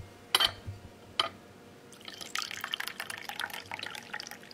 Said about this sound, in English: so I'm gonna pour it in